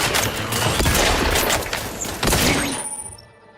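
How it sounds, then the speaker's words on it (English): Gunfire in Outer Worlds 2 rattles in dense, rapid bursts at close range, a loud crackling fusillade that cuts off and leaves a quieter ringing tail. "Someone's shooting at me!"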